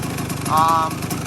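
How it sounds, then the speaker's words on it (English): A Kawasaki KX125 dirt bike engine idles steadily with a constant rough drone, a brief higher whine rising over it midway, while a person talks nearby. "Alright, seems to be idling pretty good."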